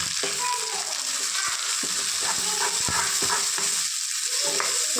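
Onions frying in a pan give a continuous bright sizzle, with occasional scraping stir clicks over the steady hiss and no talking.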